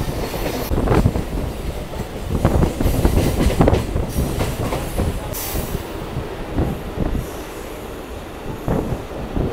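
Loud rumbling local train with rhythmic wheel clatter and squealing rails as it rolls slowly into Santragachi Junction station, India, the noise easing somewhat toward the end.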